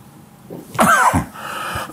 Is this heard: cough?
yes